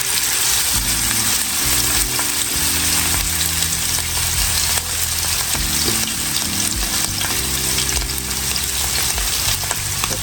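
Catfish fillets laid into a hot pan sizzle and fry loudly and steadily, a continuous close crackling hiss with occasional shifts as pieces settle.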